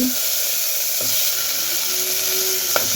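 Bottle gourd pieces and amaranth stems hit a hot pan of fried onions, filling it with a steady, bright sizzle and hiss that runs throughout, with a few faint clinks.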